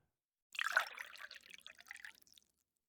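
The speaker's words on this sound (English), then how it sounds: "let me pour you a glass of water." Water is poured into a glass at a bedside, a brief soft splashing trickle that starts suddenly and fades out over about two seconds, quiet and intimate against silence.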